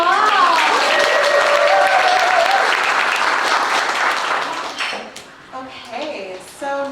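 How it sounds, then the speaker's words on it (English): Dense applause from an audience at a summer youth showcase, loud and steady at first, then fading into scattered claps as a voice starts talking near the end. "Give yourselves a round of applause."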